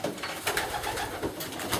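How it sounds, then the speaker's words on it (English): Soft rhythmic cooing from a racing pigeon, several close throaty coos repeating in quick succession against faint background rustle. "Let's have a look at the pigeon."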